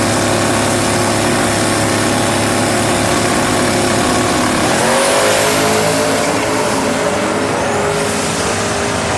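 A turbocharged Ford Mustang Coyote drag car accelerates hard, its loud, continuous engine roar climbing in pitch midway as it gathers speed, with a faint turbo whistle rising above it.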